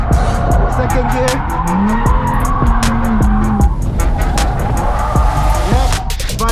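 A BMW 135i engine revs hard on a track day while tires squeal through a drift, with rapid clicking and a voice talking over the noise.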